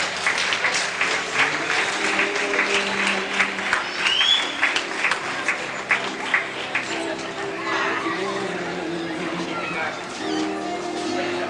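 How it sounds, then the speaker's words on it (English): Warm audience applause as semi-finalists walk onto the stage at a 1985 Butlins Bognor glamorous grandmother competition, sustained clapping with some crowd chatter and a bit of background music underneath. "They deserve a nice round of applause as they come up on the stage."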